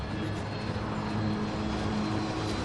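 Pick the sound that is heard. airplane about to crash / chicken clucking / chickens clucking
airplane about to crash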